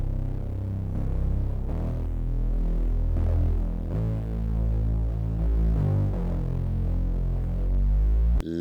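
Heavily pitch-bent synth layer in Logic Pro, saturated with fuzz and drive for a gritty, guitar-like tone, playing a loud, sustained low-heavy line with gliding notes throughout, alone with no talk.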